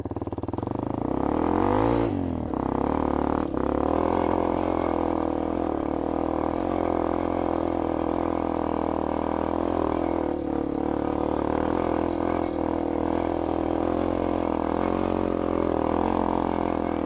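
A Yamaha XT250 dual-sport motorcycle's single-cylinder engine drones steadily and loudly while climbing a dirt hill, with engine pitch shifting slightly as the rider works the throttle, no voices present.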